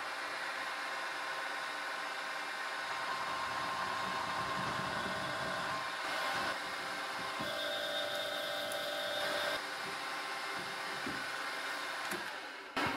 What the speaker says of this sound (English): Using the rotor broach is nice because I do not have to spot face and pre-drill